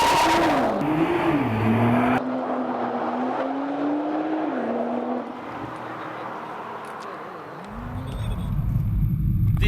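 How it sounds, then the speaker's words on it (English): A Nissan GT-R launches hard from a standstill, its engine roaring and climbing through the revs with a brief gear change, loud and close, then settling into a steady strong pull as speed builds. "Just your basic GT-R launch and we've broken the 3-second barrier to 60 miles per hour."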